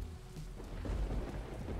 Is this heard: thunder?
yes